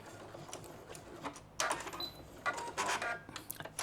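Sewing machine back stitching, then its automatic thread cutter snipping, heard as quiet mechanical whirring with a few sharper clicky bursts close by; no talking.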